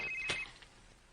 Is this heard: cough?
no